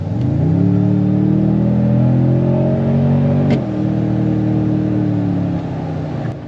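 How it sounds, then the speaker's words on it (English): A 2025 Toyota Tundra TRD Pro punched from a roll of about 47 mph, its turbocharged engine roaring loudly and climbing steadily in pitch, with one brief break midway before the engine pulls on and eases off near the end. "Okay folks, I am at a 48 mile an hour roll, maybe 47, and let's punch it."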